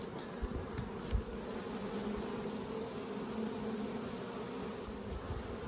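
Honey bees hum in an open hive in a bee yard, a steady dense buzzing drone close by and low in level, with a few faint knocks near the start.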